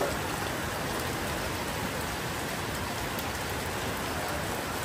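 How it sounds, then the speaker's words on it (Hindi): Heavy rain pouring steadily at a roadside stop on the way to Kumrat Valley in Pakistan at night, a dense, constant hiss of falling water with no break and no voices. "बहुत ही तेज़ बारिश है"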